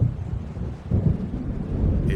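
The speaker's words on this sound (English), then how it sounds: "It seems there's a storm coming." Low thunder from an approaching storm in Alan Wake rumbles continuously, deep and heavy, with a fuller swell partway through and no voices.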